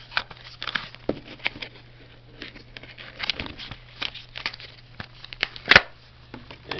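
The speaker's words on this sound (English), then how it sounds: "Rip that open." SanDisk Extreme Pro 128GB SD card packaging is torn open by hand, a run of short crinkling rips and rustles up close with one sharp, louder tear near the end.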